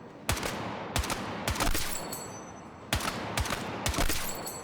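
Heavy-recoil gun in a video game firing single loud, punchy shots in an uneven rhythm, about seven reports over a few seconds, each with a sharp crack and a short ringing tail, with no talking.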